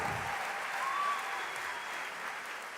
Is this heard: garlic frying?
no